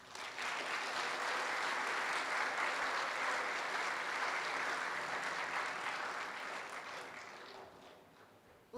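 A school audience at a ribbon cutting ceremony breaks into steady, full applause, many hands clapping evenly for several seconds before gradually tapering off, with no talking over it.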